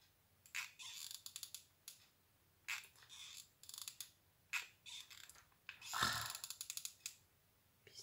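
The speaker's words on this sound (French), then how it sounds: "Pistolet qui grince." A hot glue gun squeaks and clicks as its trigger is squeezed while decorating a Christmas bauble, in repeated short ratcheting bursts separated by pauses, faint and close with a longer creak near the end.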